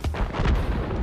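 Heavy artillery fire in a video game booms in a quick burst of close, overlapping low blasts and rumbles, with no talking.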